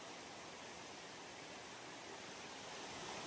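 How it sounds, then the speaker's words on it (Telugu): Waterfall rushing in a steady, even hiss of falling water, heard from some distance and fairly faint, with no voices. "ఇది వాటర్ ఫాల్స్ కుడియా."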